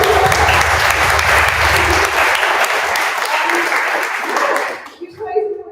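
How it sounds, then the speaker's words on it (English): A crowd at a web development bootcamp graduation demo day in Lisbon breaks into loud, dense applause that holds steady for about five seconds before quickly dying away, with a few voices briefly audible afterward. "give yourselves a round of applause."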